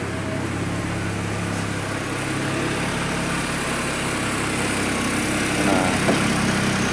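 A GM vehicle with a Class 2 network communication fault idles nearby, giving a steady, even engine rumble that holds at the same loudness the whole time.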